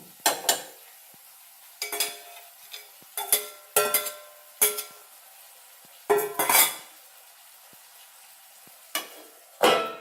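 Mutton fried with onion and garlic in a pot: a spatula scrapes and clanks against the metal in sharp, irregular bursts, with quiet stretches between strokes and a faint sizzle underneath.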